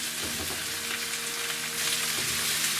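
Cauliflower sizzles and fries in a stir-fry pan on a lit stove for mixed vegetables, a close, steady crackling hiss with a few stirring scrapes and no talk.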